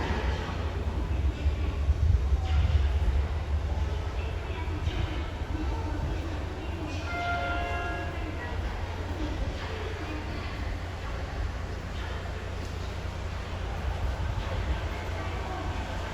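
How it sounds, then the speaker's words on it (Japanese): A Sapporo subway 8000 series out-of-service train pulls into a platform at Shin-Sapporo station, a steady low rumble and rolling noise that holds throughout, with faint platform announcements in the background. "まもなく2番ホームに到着する電車は回送車です。"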